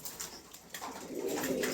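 Adult pigeons for sale in Bangladesh coo close by, soft rolling throaty calls that swell toward the end, with no one talking.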